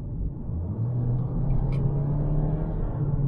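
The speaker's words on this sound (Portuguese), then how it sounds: "Ele tem esse ruído quando tu pisa a fundo no acelerador" A 2023 Toyota Corolla XEI with a CVT is floored at full throttle, its engine giving a steady, droning roar from inside the cabin at an unchanging pitch, moderately loud and without talk.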